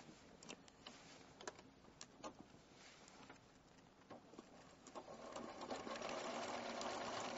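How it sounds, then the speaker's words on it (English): A home sewing machine runs a triple stitch, rattling with quick uneven clicks as the needle moves forward and back, then settling into a steadier, denser whir, close but quiet. "Now I'm going to use a sculpture stitch, like a triple stitch. Okay. I've set my machine for a triple stitch."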